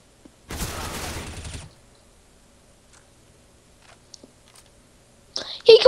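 AK rifle fire in a first-person shooter video game, a fast burst of shots for about a second, then near-quiet with faint clicks, followed by a louder noisy spurt at the end.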